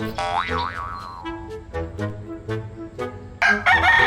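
A large rooster crows at close range beside an outdoor Thai amulet blessing ceremony, a wavering harmonic call with clucks and short calls that follow, then a burst of broadband noise near the end.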